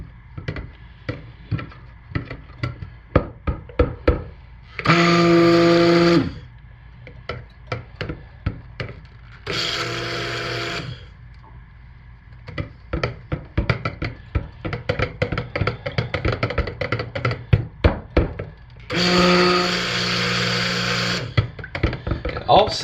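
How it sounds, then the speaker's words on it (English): Stick blender mixing cold process soap in a pot, running in several short loud bursts separated by quieter stretches of tapping and clicking. "when I stir with a stick blender in this, I don't have metal dragging on metal at the bottom"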